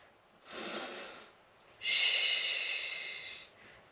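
Two deep breaths during a Pilates posture stretch, a soft inhale followed after a pause by a longer, stronger breath out, close and breathy with no talking, then a faint short breath at the end.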